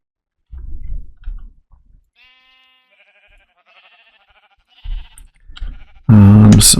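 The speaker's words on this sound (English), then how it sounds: "Let me go ahead and get some sheep" Sheep in Minecraft bleat in a short series of clear, nasal calls, fairly close and alone, with a louder burst of game or room noise near the end.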